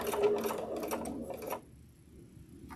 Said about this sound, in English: And then I'm just going to back stitch.